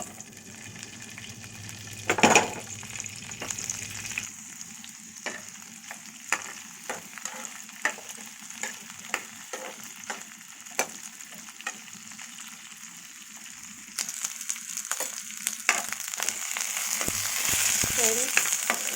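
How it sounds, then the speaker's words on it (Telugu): Okra pieces fry in peanut oil in a kadai for ladyfinger pickle, with a steady sizzle and frequent scraping stir strokes that grow denser and louder toward the end. "ఇవి పచ్చి వాసన పోయే వరకు ఫ్రై చేసుకోవాలండి"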